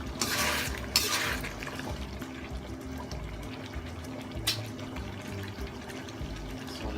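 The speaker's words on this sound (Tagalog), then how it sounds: "So lalagyan na rin po natin siya ng tubig para palambutin natin siya." Water is poured into a pot of beef being cooked for Filipino caldereta, with a rushing pour at the start and then softer sloshing and light clinks of pots and utensils in a kitchen.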